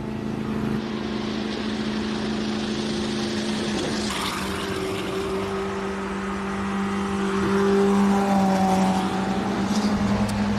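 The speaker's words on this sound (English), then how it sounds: "Sounds like it's only running on about 3 cylinders." A race car engine misfiring on about three cylinders drones roughly at steady revs, uneven and sputtering, then swells louder as it passes nearby at a hill climb.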